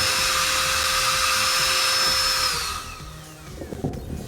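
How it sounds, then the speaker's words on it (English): Compressed air blasting a Glowforge's small fan over garbage, a loud steady high hiss with a whirring whine that cuts off after a few seconds, leaving faint rustling and clicks. "you can also blow out this little fan. Let's do that with air."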